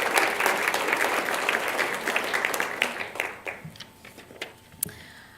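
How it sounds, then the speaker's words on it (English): Audience applause at a school governing board meeting, a dense sustained burst of many hands clapping that thins out and fades into scattered claps near the end. "Erica, well, we could give her a round of applause."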